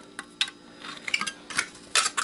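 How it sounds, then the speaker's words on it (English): Metal snips cut aluminum parts away from steel on a scrapped video game console, producing sharp, irregular clicks and crunching snips at close range with no voices. "Some scissors for metal."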